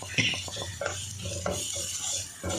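Ground masala being stirred into a pan for a Kerala beef coconut milk curry, a spoon scraping and clinking against the metal with a low sizzle underneath, close and steady with no talking.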